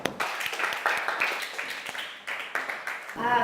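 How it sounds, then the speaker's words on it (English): An audience applauds at the end of a presentation in a classroom, a steady wash of many hands clapping close by that rises again at the finish. "Let's give her a round of applause."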